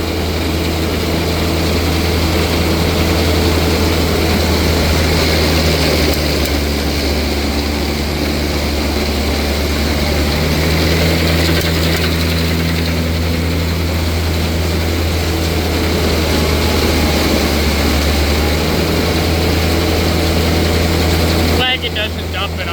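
A silage blower fills a silo with corn silage, roaring loud and continuous with a deep, unbroken machine hum and a dense rushing wash over it, barely changing from start to end.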